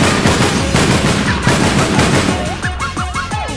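Rapid automatic gunfire in the online shooter APB: Reloaded, loud and close, firing in quick bursts that overlap with a few sharp rising chirps near the end.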